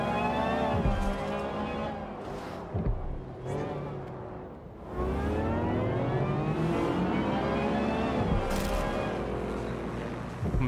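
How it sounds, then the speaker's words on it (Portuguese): Cars in the video game Watch Dogs Legion rev and accelerate, with engine pitch rising and falling in repeated sweeps, plus whooshes of passing traffic at moderate loudness. "O som dos carros."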